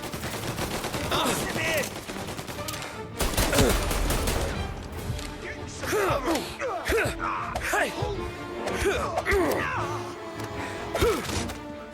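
Mafia: Definitive Edition gunfire bursts out in a loud, dense volley of gunshots and clattering impacts, continuing in scattered shots over a busy game soundscape while characters speak.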